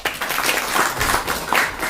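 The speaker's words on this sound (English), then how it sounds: "Give him an applause." A short burst of audience applause during a lecture by HG Radheshyam Prabhu, dense clapping from a small group, close and steady for under two seconds with no talk over it.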